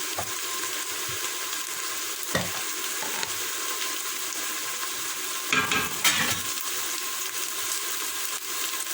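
Tomato paste sizzling in a hot pan for barbunya pilaki, a steady loud frying hiss with a couple of stirring scrapes, no talking.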